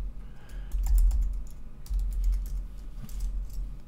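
Username being typed on a computer keyboard, two quick bursts of close key clicks separated by a short pause.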